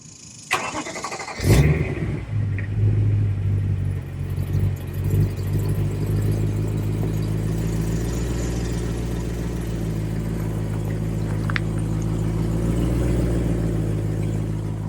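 BMW E90 M3 with its S65 V8 cranks and catches after a short starter burst, then settles into a steady, surprisingly quiet low rumble at idle, close by and continuous with no talking.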